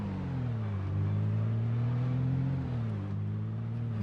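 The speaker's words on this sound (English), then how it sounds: "Actually hear the tires squeak on the car when you make sharp turns." Car engine droning steadily as it drives in the zombie survival game Project Zomboid, a continuous low hum with a slight pitch rise and fall, and no clear tire squeak standing out.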